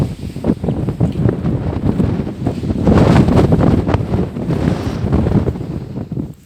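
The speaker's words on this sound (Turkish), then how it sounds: "Bayağı bir rüzgar var." Strong wind roars across the microphone, surging and easing in loud, continuous gusts with no voices.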